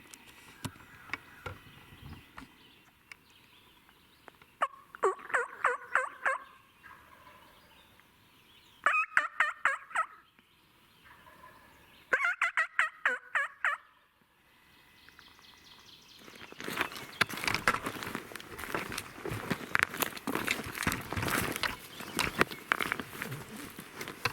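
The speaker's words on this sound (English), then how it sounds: "They're fired up. They keep gobbling." Wild turkey gobblers in the Arkansas mountains gobble in repeated bursts, loud rattling calls a few seconds apart, followed by a long stretch of dense, noisy rustling.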